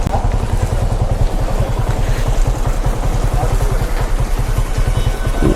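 Yamaha R15 V3 motorcycle running during a tire burnout: a close, steady rapid engine pulse that throbs evenly throughout, with a rough mechanical rumble and faint voices in the background.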